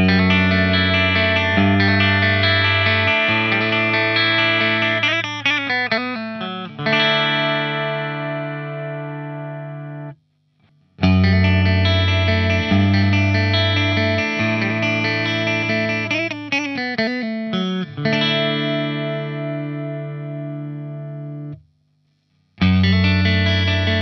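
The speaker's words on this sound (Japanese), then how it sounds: "このギターならではのシャキッとキレがあるサウンドは弾いていて心地いいです" A HISTORY CZ-TVR electric guitar played through effects rings out in bright, crisp strummed chords and short runs, repeating the same phrase twice with a brief pause between, loud and close.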